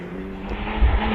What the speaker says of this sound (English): Rodney Isles gets underway in the Porsche 911.